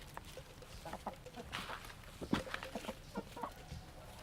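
A small rooster clucks in short, scattered bursts at moderate distance, with other faint farmyard chicken noises around it and no clear speech.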